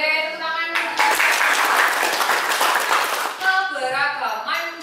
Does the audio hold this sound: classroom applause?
yes